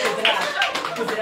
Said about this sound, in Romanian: Aplauze pentru colegul nostru, Gheorghe Zvarici, cu drag.